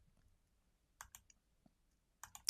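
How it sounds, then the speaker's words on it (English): A zipper is handled during sewing work on a reverse appliqué fall pillow, giving a few short, sharp zipping rasps close by, in two separate bursts within an otherwise quiet stretch. "Oops, that's the zipper."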